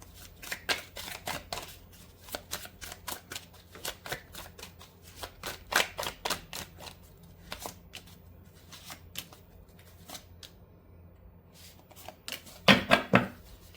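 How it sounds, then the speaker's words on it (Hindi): Tarot cards are shuffled and drawn in a series of crisp, close riffling bursts, with a louder flurry of card flicks near the end. "मुझे फील ही हुआ था इसलिए मैंने और कार्ड्स निकाल लिए"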